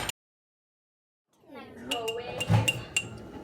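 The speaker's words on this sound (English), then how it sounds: "I have to grab a different spoon" A spoon is pulled from a kitchen cutlery holder, giving a short burst of bright metallic clinks and rattles after a moment of silence, close and fairly loud.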